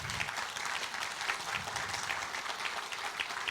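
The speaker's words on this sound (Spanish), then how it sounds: "Dele un fuerte aplauso al Señor" A church congregation claps together in dense, steady applause for a few seconds. It sounds fairly distant and quiet, with no talking over it.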